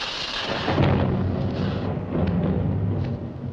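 Thunder from a thunderstorm on an alien planet in a 1961 science-fiction TV serial, a low, steady rolling rumble that swells and lingers for several seconds without voices.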